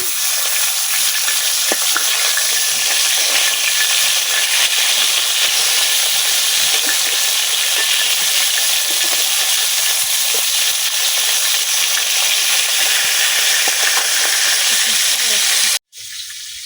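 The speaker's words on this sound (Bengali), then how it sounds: "মাছটি ভাজা হইতে হইতে" Pangas fish frying in a pan, a loud, steady hiss and sizzle that runs without a break until it cuts off abruptly near the end.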